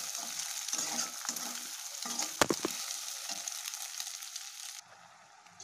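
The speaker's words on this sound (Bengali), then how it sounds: "ডিমটা ভালো মতন ভাজা ভাজা করে নিচ্ছি।" Beaten egg sizzles and crackles in a hot pan while a spatula stirs and scrapes it, a steady close hiss with a few sharp knocks midway.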